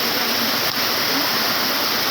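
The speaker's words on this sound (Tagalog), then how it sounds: "Lakas ng alon." Strong sea waves churning and crashing nearby during a rain-and-wind storm at a coastal tournament spot, a loud continuous roar of surf and spray with no voices.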